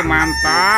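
A toy animal sound button plays a short rooster crow, loud and close, with a single word spoken over its tail end.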